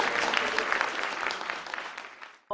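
Dense audience applause at a Korean literary talk-show event fills about two and a half seconds, steady and full before cutting off abruptly, with a brief sound right at the end.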